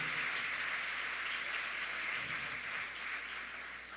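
A church congregation applauds in a dense, steady wash of clapping that carries on throughout and fades slightly toward the end.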